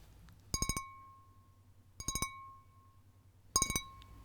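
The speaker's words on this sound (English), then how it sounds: "he taps his nails on the side of a glass beaker" Fingernails tap on the side of a glass beaker in three separate quick clusters of bright, ringing clinks, each a rapid little run of taps that fades into a quiet room.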